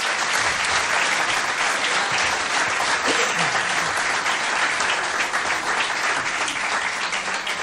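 Sustained audience applause for the bassist at a live fado concert, a dense, steady clapping from a full hall that holds evenly loud for the whole stretch.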